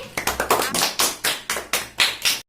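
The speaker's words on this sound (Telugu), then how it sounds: "క్లాప్స్ కొట్టండి" Children in an online class clap along, about a dozen crisp handclaps in an uneven rhythm, loud and close with short gaps between groups of claps.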